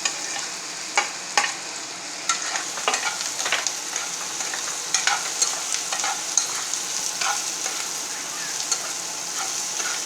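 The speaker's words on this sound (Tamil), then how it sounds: "முட்டையை கட் பண்ணி வச்சுருக்கோம்ல, அதையை வச்சு அதை போடணும்" Cut boiled eggs fry in a pan for a Tamil egg varuval, an even loud sizzle with repeated clattering stirs and scrapes throughout, close up and without speech.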